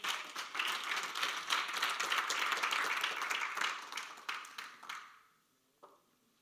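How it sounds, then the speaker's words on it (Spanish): A church congregation claps for the Lord during a service, producing dense, steady applause that swells and then thins out, ending in a few last claps before quiet. "Vamos, denle un aplauso al Señor."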